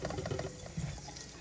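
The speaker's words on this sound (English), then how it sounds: "Just rinse them under the water, rub them" Tap water runs and splashes as sweet potatoes are rinsed and rubbed under it in a kitchen sink, a steady, close burbling flow with irregular spatters.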